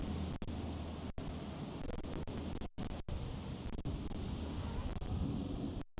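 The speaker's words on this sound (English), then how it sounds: "It's very windy, guys." Strong outdoor wind buffets a microphone, a constant rough roar with brief dropouts and gusting surges throughout, no other clear sound over it.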